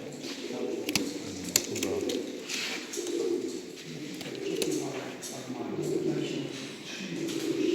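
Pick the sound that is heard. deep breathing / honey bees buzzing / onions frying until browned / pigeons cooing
pigeons cooing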